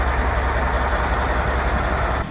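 730-horsepower CAT dump truck lowering its body, a loud, steady roaring engine and hydraulic rush that holds constant before cutting off abruptly near the end, with no talking.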